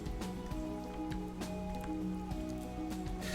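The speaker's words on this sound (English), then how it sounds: "I hope the rain sound effect is subtly in the background for you guys watching." A soft rain sound effect runs steadily and faintly in the background under game music, with no speech heard.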